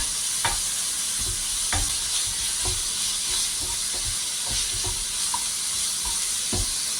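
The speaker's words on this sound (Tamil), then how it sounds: "சிக்கன் கீமா அதையும் அதில் போட்டு பரவலாக போட்டு வதக்கிக்கலாங்க" Minced chicken keema sautés in a pan with a constant close sizzle, while a spatula scrapes and taps the pan in irregular strokes several times throughout.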